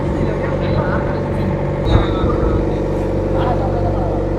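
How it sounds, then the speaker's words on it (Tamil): A motorboat heading toward Eluvaitivu island drones steadily near Puliyantivu, its engine a constant low rumble with voices talking over it. "அதுலேயே ஒரு படகு கொண்டு போகுது பாருங்க"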